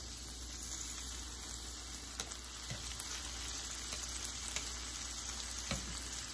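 Salmon fries in a pan with lemon juice, a steady close sizzle with faint pops and small crackles throughout.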